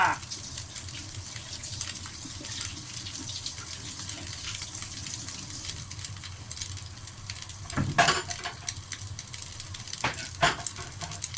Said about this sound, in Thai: ทอดก่อนนะคะทอดให้เหลืองเลยจ้ะ